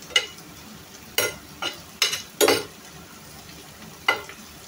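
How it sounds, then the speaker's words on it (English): Okra frying in a pan, a soft steady sizzle broken by several sharp bursts of spatula stirring and scraping at irregular intervals, close and fairly quiet, with no voices. "Just I fry the okra."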